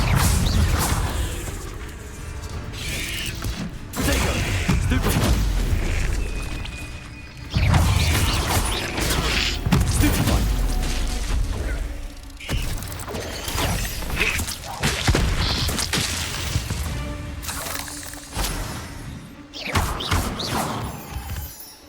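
Repeated blasting spells from Hogwarts Legacy, cast inside the Room of Requirement, burst out as loud crashing, shattering impacts with whooshes, several blasts spaced a few seconds apart and no talk.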